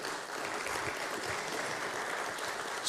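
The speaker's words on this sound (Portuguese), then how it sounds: "que eu peço palmas aqui" Steady applause from a conference audience at a panel session fills the whole stretch, moderately distant and even, with a brief louder burst at the end.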